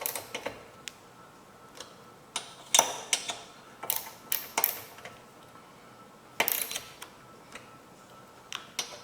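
Tightening a part on a Yard Machines 4.0 HP 21-inch lawn mower gives sharp metallic ticks and clicks from a tool at close range, spaced irregularly over a quiet background.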